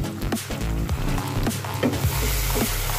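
Masala paste with mustard for paneer besara sizzles and spatters steadily in oil over a low-to-medium gas flame, a continuous close frying hiss with small bubbling pops.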